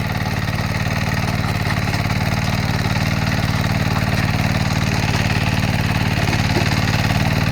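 Power weeder engine ploughing a field, running loud and steady throughout with a constant close mechanical drone and no pauses.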